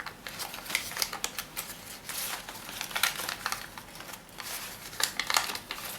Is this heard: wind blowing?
no